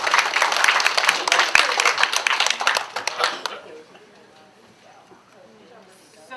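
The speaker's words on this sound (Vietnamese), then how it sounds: "Quý vị cho tràng pháo tay cho" Audience applause at a community talk, a dense burst of many hands clapping loudly for about three seconds before quickly dying away to a quiet murmur.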